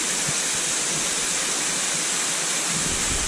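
Spruce Flats Falls pours over rocks at low water level, a steady, dense roar of falling water heard up close, loud and unbroken, with no voices.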